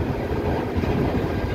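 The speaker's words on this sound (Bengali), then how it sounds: "ক্যান্টনমেন্ট স্টেশনের 1 নাম্বার লাইনে আমাদের নাজিরহাট কমিউটার ট্রেন প্রবেশ করছে।" A Nazirhat commuter train rolls into Cantonment station in Chittagong on line 1, heard from on board as a loud, continuous rumble of wheels and carriages with faint clatter.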